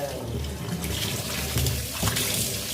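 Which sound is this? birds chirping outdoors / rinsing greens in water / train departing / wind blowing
rinsing greens in water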